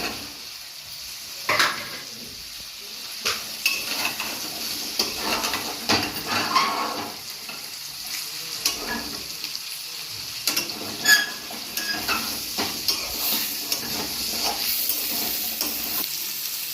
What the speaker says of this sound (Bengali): ভালো করে নেড়ে চেড়ে নেব তারপরে কচুটা এর মধ্যে দিয়ে দেব